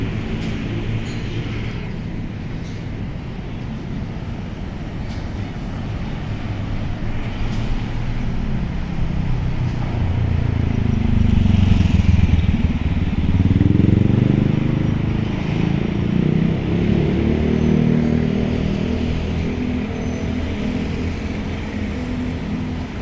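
A GEK diesel locomotive reverses onto track three while shunting in a riverside rail yard, coupling to wagons bound for Khlong Toei port. It gives a steady low diesel rumble that swells in the middle and fades slightly, heard alone without talk.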